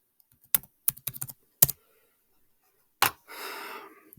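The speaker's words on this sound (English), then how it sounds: "I can just type it like this" Short bursts of typing on a computer keyboard, a few quick clusters of clicking keystrokes separated by pauses, close and fairly quiet, ending with a brief rustle.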